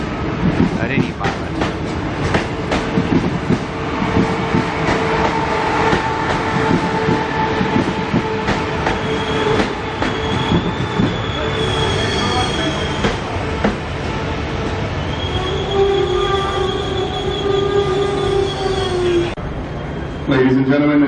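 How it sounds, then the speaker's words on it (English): The Tilt Train rolls slowly alongside a platform at Roma Street station in Brisbane, wheels squealing and screeching over a rumbling roar, with announcements and voices mixed in. "the tilt train is now making its way down the platform"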